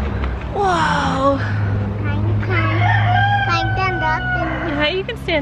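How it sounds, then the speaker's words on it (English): Chickens at a storybook zoo cluck and crow close by, a loud run of rising and falling calls over a steady low drone, with people talking over them. "Hello, chicken."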